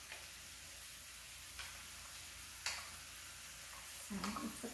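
Garlic and onions sizzle faintly in a pan, a soft continuous frying hiss broken by a few light clicks and stirring scrapes near the end.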